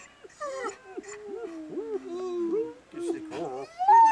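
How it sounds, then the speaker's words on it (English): A dog sings and howls in wavering, whining tones across several rising and falling phrases, close and fairly loud, while a person coaxes it on. "Dog's singing already."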